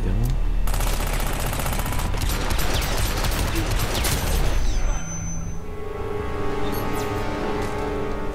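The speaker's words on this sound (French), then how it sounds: "Ils ont entendu des coups de feu" Rapid bursts of gunfire rattle loudly for about five seconds in the game Hitman: Absolution on PS3, then the shooting drops away to a quieter background with scattered distant shots.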